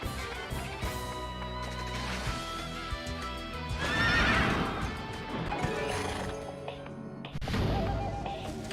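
A horse neighs loudly, with hoofbeats and battle clamor, amid dense music and effects in the action video game Sengoku Basara 3 Utage.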